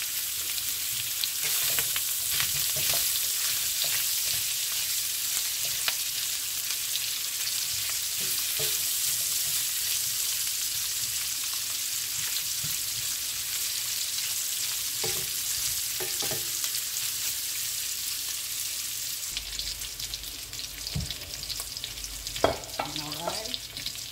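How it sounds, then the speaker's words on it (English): Cabbage, sausage and bacon fry in a pan with a steady, even sizzle that continues unbroken, with occasional clinks and stirring noises near the end. "Now guys, I'm going to go ahead and add the sachet. Allow these to just fry."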